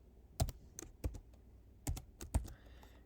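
Computer keyboard typing while entering a math function, a few quick key clicks in short clusters, close and quiet with no talking.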